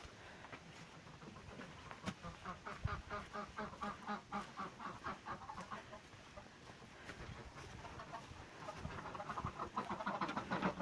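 Ducks quack in a steady busy chorus alongside clucking chickens, a lively farmyard of poultry calling continuously, growing a little louder toward the end.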